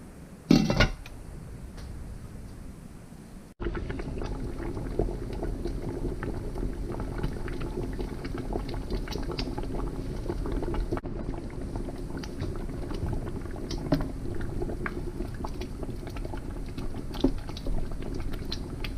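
A thick homemade spaghetti sauce of garden tomatoes bubbles and pops steadily in a pot, a dense low simmer with occasional louder blips and no talking.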